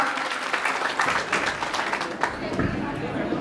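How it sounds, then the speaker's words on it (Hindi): A crowd at a skills training event breaks into sustained applause welcoming a speaker, many hands clapping steadily and fairly loudly for a few seconds. "मैं इनका जोरदार तालियों के साथ स्वागत करवाना चाहूंगा।"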